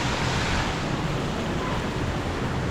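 Taytay Falls in Majayjay, Laguna pours in a dense, steady roar of rushing water, loud and close with no break and no voices.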